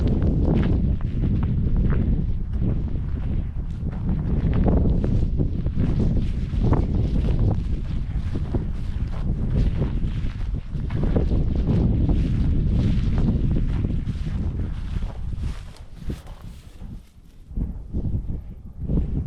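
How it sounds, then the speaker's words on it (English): Heavy outdoor wind buffets the microphone at an abandoned Wyoming homestead with old sheds and barns, a loud continuous low rumble that surges and eases in gusts. "A little windy out here today."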